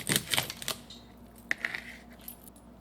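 Asparagus ends being cut off with a knife, giving a handful of sharp, close clicks and taps on a board, several in quick succession at first, then a few lighter ones.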